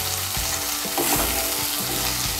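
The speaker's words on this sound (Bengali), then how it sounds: "রসুন বাটা আদা বাটাটা মিশিয়ে নেব।" Garlic and ginger paste is stirred as it fries in a pan, with a steady loud sizzle and soft scraping strokes of a spoon, close up and with no talking.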